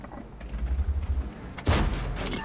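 A heavy tank gun fires in World of Tanks, shown in Tiger P gameplay. A loud, booming blast sounds near its close after low rumbling engine and battle noise, with no talk over it.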